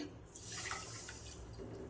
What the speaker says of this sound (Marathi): तर या ठिकाणी 1 वाटी पाणी मी घेत आहे